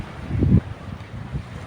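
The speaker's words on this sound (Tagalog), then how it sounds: "Yan kasi masyadong mahangin." Strong gusts sweep a beach resort in Cavite City beside a rough sea, buffeting the microphone with a deep, uneven rumble that surges loudest early on and then settles into a steadier roar.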